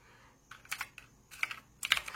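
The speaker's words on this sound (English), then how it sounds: "What we're gonna actually do is type in, let's see, PlayStation." One-handed typing on a computer keyboard, with three short clusters of sharp, close key clicks separated by brief pauses in an otherwise quiet room.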